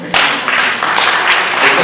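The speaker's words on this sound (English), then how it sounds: "So clap for me." Audience clapping at a Toastmasters club speaking event, a steady burst of applause that starts abruptly and carries on at even loudness.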